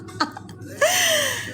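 A short cough-like burst, then a longer strained, rasping vocal sound that trails off, close to the listener.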